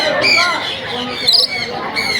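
Caged birds at a bird market give sharp, loud squawks and high chirps in quick bursts, with people talking close by.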